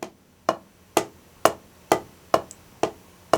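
Eight soft drum strokes played at piano dynamic as a double stroke roll exercise, evenly spaced about half a second apart, each a short close tap with a quick decay, alone in a quiet room.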